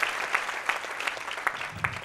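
A church congregation clapping together in a quick, fairly regular rhythm, the claps sharp and evenly spaced with a faint murmur of voices beneath.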